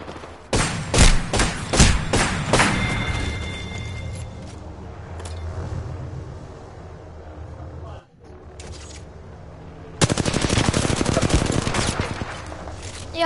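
Rapid P90 gunfire in a video game, with dense bursts of automatic shots near the start and another sustained loud burst later, separated by quieter game sound and a brief dropout.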